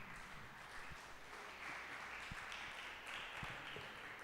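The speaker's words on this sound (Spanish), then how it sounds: "Dame un aplauso a Jesucristo." A church congregation applauds during a Spanish-language worship service. The clapping is a steady, faint, distant wash of many hands that continues without a break.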